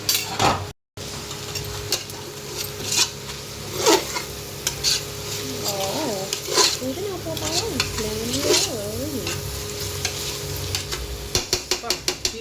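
Mint leaves are stirred and sautéed in a pot for home-style chicken biryani, giving a close, steady frying sizzle with repeated scraping and clinking of a spoon against the metal pot.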